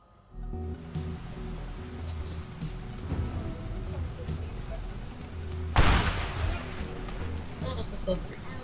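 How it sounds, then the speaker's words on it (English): Game thunder crashes in Teardown, a rainy mission with fires, as a loud broadband rumble rolling in near six seconds over steady rain hiss and low drones. "that was the thunder."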